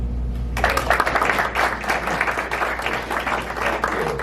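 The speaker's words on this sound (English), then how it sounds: "Please help me and give a round of applause." Audience applause starts suddenly after a low hum and continues as a dense, even patter of many hands at a policy event, holding steady for several seconds.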